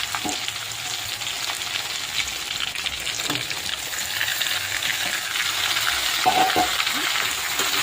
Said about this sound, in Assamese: এতিয়া মই ইয়াত আলুখিনি দি দিওঁ।